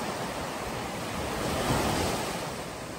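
Rough sea waves crash under low-pressure weather, a loud continuous roar of surf. It swells slightly in the middle, with wind buffeting the microphone throughout and no voices.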